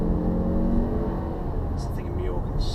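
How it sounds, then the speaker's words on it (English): A 2015 Ford S-MAX with 238 brake horsepower accelerates past cyclists on a road in Majorca, a steady engine drone and road roar heard from inside, with someone talking over it. "I'm going to use my 238 brake horsepower to get past these cyclists."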